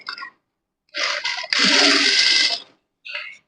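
Sewing machine stitching a lining blouse, short bursts of rapid mechanical running with a longer steady run in the middle, separated by silent pauses.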